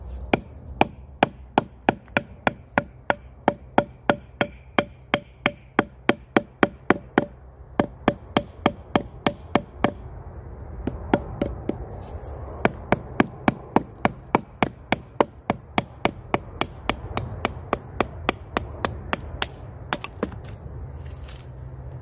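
A Mora floating serrated knife with a 1.1 mm 12C27 Sandvik steel blade chops and breaks small wood shingles, giving a long run of sharp, rapid, regular cracking strikes close up, with a few brief pauses and no talk.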